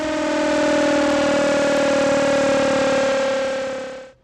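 A civil defense siren mounted on the 14th floor of the PWD building near ITO in Delhi wails in a loud, steady, sustained tone for about four seconds before cutting off.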